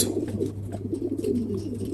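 Pigeons coo steadily in a loft, soft low rolling calls overlapping close by against a constant low hum, with no one talking.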